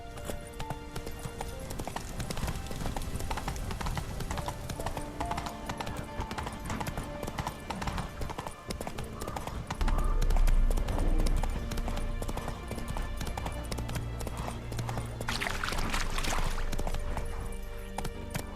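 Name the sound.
horse Roach galloping hooves clip-clop, from video game The Witcher 3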